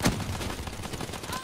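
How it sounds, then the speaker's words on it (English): Rapid bursts of suppressed gunfire in a video game crackle in a dense, steady volley, fairly quiet, with a sharp shot at the start and a voice talking faintly underneath. "It sounds like a gun still going off."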